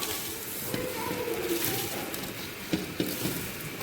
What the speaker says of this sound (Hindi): बस पानी उबल गया, मसाला जो भुना था, अब चावल डालने लगे।